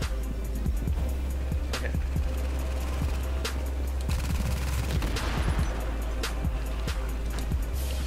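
Sustained gunfire in The Division, rapid overlapping automatic and single shots of varying loudness over a steady low engine-like hum, in a continuous dense firefight.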